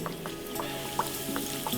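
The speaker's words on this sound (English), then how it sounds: "So now I'm gonna start putting the meat in, and they don't have to be in for very long" Beef cutlets frying in oil in a small frying pan, a steady soft sizzle with small crackling pops, close by and fairly quiet.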